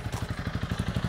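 A Honda CRF300 Rally with its stock exhaust at full throttle near maximum revs, a rapid pulsing engine roar with evenly spaced thumping beats, loud and close.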